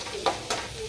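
Potatoes and garlic frying in a home kitchen pan, a steady soft sizzle with two brief louder bursts of stirring, close and moderately quiet.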